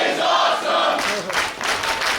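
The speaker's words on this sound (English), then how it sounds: "Listen to this crowd." A wrestling crowd of a few hundred fans roars and chants, a dense loud wall of voices that swells in waves, close and continuous.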